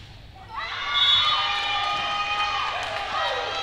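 A crowd in a school gym cheers and shouts at a girls' OFSAA volleyball bronze medal match, the noise rising quickly and holding steady at a loud level, with a commentator's voice over it.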